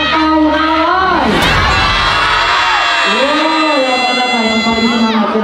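A loud crowd shouts and cheers enthusiastically at a lion dance show, with high whoops and rising yells from many voices, including children, swelling and falling close by.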